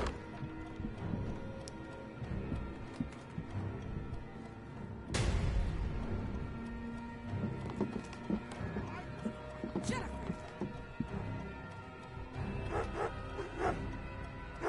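Dog barking and whimpering in the video game Remothered: Broken Porcelain, with yips and whines mixed among game sound effects while someone talks over much of it.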